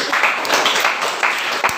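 Students in a classroom clap together in a lively round of applause, a dense, steady patter of many hands close by that runs without pause for about two seconds.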